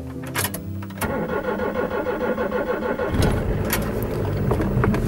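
A car engine cranks briefly, then catches and settles into a rumbling idle that picks up and revs slightly, heard close and loud with no talk.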